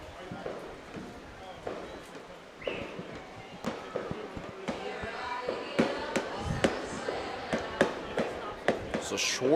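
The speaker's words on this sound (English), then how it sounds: "Couple more fireworks out there in the distance that you can see there, folks." Distant fireworks pop and crackle in irregular bursts during a July 4th minor-league baseball game, sharp repeated bangs rising over the stadium crowd murmur while an announcer talks.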